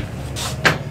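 A cupboard door in the kitchen of a 2022 Grand Design Imagine XLS 17MKE travel trailer is opened, giving two brief, close wooden knocks and scrapes against a quiet room.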